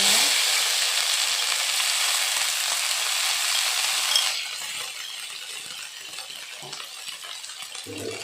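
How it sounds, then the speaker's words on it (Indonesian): Spice paste for Surabaya-style rawon beef soup fries in a pan over a low flame, a steady loud sizzle that drops to a quieter crackle partway through, with occasional stirring clinks. "Selanjutnya bumbunya kita goreng dulu ya."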